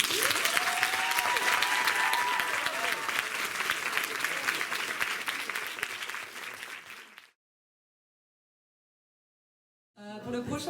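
Loud, dense audience applause after a speech at an eloquence contest, steady for about seven seconds before cutting to silence, then resuming briefly at the end.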